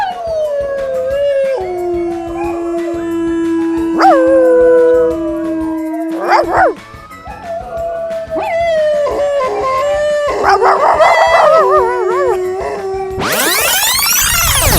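A human voice imitating a dog, drawing out long wavering howls, then adding yips, whimpers and a rising final howl, loud and close with no other sound.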